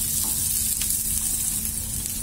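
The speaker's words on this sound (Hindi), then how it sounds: "प्याज को भी हम 3 से 4 मिनट के लिए भूनेंगे" Onion frying in oil with garlic for chili potato, a dense, steady sizzle close up with a faint low hum underneath, no voices.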